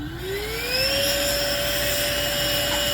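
Steady whirring drone of a Shark 2S electric paddle board pump on its first compressor stage, a rising whine that settles into a constant vacuum-cleaner-like tone, moderately loud and continuous with no talking.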